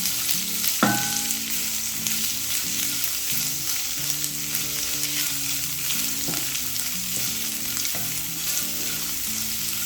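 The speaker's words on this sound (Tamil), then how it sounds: "இப்போ நீட்ட வாக்கில் நான் இருக்கிற வெங்காயம் சேர்த்துக்கிறேன். இதையும் நம்ம நல்லா வதக்கிக்கணும்." Sliced onions sautéing in a pan for roadside-style kara chutney, a dense steady sizzle lasting throughout with occasional knocks and scrapes of a stirring spoon, close and without speech.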